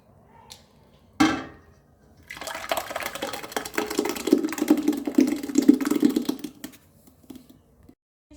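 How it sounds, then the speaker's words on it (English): Meat-cooking water pours into a pot of Cameroonian ndole after a sharp clink, running as a close, steady splash and trickle for a few seconds before fading to quiet. "I have to put in the water that I use to cook my meat"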